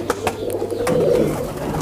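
High flyer pigeons coo softly and steadily at close range, their low throaty calls running continuously with a few brief clicks and rustles around them.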